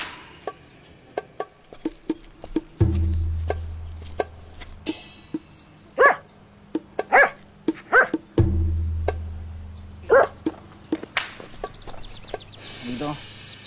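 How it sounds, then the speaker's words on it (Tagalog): A dog barks in a series of sharp, separate yelps, some close and loud, with chopping-like thuds and low rumbling tones between them. "Alam mo naman ang aso, galit sa pusa."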